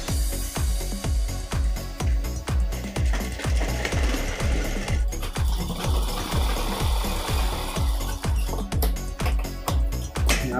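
Sewing machine stitching a folded seam on a blouse, a fast, regular, loud mechanical thumping of the needle close up, running continuously with slight changes in pace and no talk.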